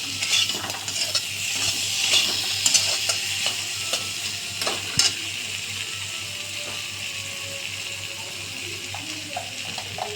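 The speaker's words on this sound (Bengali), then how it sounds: "একটু ভালো করে কষে নিলাম।" Rohu fish curry being sautéed in a pan at home, with steady stirring scrapes and a soft sizzle that continues throughout.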